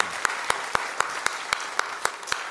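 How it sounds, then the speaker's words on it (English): An audience at a medicine and religion symposium applauds the presenters, with steady crowd clapping and evenly spaced sharper claps standing out. "Let's give a hand of applause to all of our presenters."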